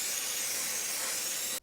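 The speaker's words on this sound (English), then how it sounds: "Then give it a good old blast with brake cleaner." Brake cleaner blasted from an aerosol can onto engine parts of a Mazda MX5, one steady close hiss lasting about a second and a half before cutting off sharply.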